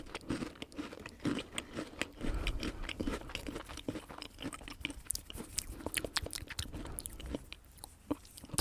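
Crunchy American cookies are bitten and chewed up close, with steady crisp crunching and crackling mouth sounds over several seconds and no talking.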